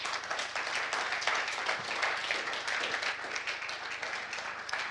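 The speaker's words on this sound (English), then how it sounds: "I think this is a warm applause from the audience." Sustained applause from a large audience, dense steady clapping filling the whole stretch without letting up.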